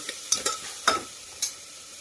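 Mixed vegetables being sautéed in hot oil for masala rice, with a few sharp stirring clatters and brief sizzling bursts over a quiet background.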